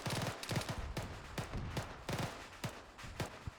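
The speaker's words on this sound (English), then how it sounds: "Alpha is shooting at northeast somewhere." Rapid bursts of gunfire from an Arma 3 co-op firefight crackle almost without pause, several weapons overlapping in loud volleys with brief gaps between clusters of shots.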